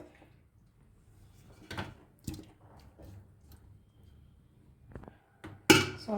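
Chicken pieces go into a ghee-greased pot for spicy biryani: sparse metallic clinks and soft wet squishes, quiet and close, with a sharper clatter near the end.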